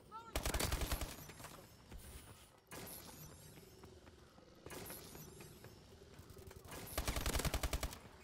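ASM-1 automatic weapon firing in a video game: two loud, rapid bursts of gunfire open and close the stretch, with quieter in-game mechanical clatter and effects between them.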